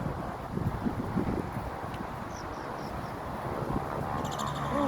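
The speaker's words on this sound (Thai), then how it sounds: "ลมดีมากเลย" Wind blowing steadily across open farmland near sugarcane fields, a continuous rushing buffeting against the microphone throughout, with faint birdsong above it.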